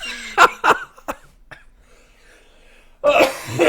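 A few sharp, abrupt coughs in quick succession, then a quiet pause before a burst of noisy voices and commotion.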